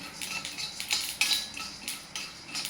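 A utensil scrapes and clinks against a pan while sesame seeds, peanuts and roasted gram are stirred, in quick irregular strokes, close and moderately loud with no talking.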